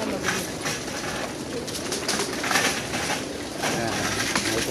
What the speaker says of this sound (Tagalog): Natuka na yung mga ibon nyo.